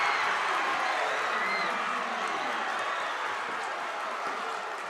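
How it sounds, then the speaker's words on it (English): A home crowd roars and cheers at a boys varsity high school basketball game after a slam dunk, a loud sustained wash of cheering and applause that fills the gym and eases off slightly toward the end. "That'll get the home crowd up and off their feet"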